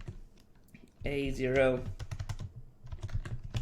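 Computer keyboard typing, a run of quick clicks that follows a short spoken phrase and continues under a light background hum.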